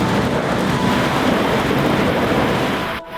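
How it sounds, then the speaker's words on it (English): A huge storm front at Girraween National Park, with heavy rain roaring steadily and a deep rumble of thunder, loud and continuous before cutting off abruptly. "We stopped in at Girraween National Park where a huge storm front came across."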